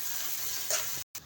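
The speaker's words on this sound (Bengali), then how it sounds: "তো তেলটা গরম হয়ে গেছে, তেলও দিয়ে দিয়েছি পেঁয়াজ কুচি আর তেজপাতা" Chopped onion and bay leaves sizzle in hot oil with a steady hiss and a brief louder flare, then a short break before the sizzle resumes.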